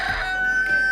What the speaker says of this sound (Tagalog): All plenty chickens!